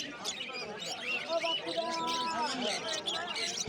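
Many small caged birds, including lovebirds, chirp and twitter continuously in a noisy bird market at Uluberia, their high calls overlapping with crowd murmur.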